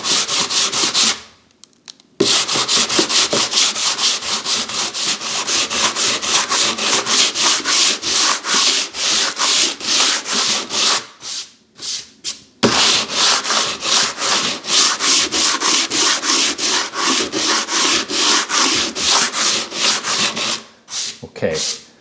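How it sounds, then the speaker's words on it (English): Hand sanding of wooden cove and crown molding with a sheet of 60 grit sandpaper: steady rapid back-and-forth rasping strokes, close and loud, with two brief pauses and no talk. "I've got a piece of sandpaper right here. This is 60 grit."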